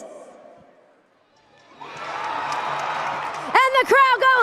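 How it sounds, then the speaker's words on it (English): Monster Jam arena crowd in Buffalo, New York at a freestyle event, a broad roaring cheer swelling up and holding loud for a couple of seconds, then overtaken by an excited announcer's voice. "And the crowd goes wild!"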